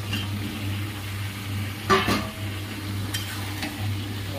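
Fried soybean chunks being stirred in a cooking pan with a little jaggery, a steady background sizzle broken by a few scraping clinks of a utensil against the pan, with no talking.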